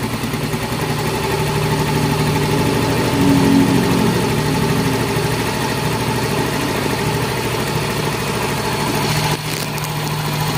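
A Yamaha Mio M3 scooter engine idles at raised RPM up close. The hum is steady and loud, swells slightly for a moment, then dips briefly near the end.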